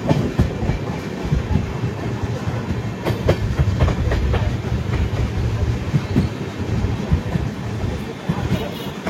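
Onboard the Kulik Express on the Howrah–Radhikapur line nearing Raiganj, a continuous loud rumble of rolling carriages with rhythmic wheel clatter and occasional sharper rail clicks.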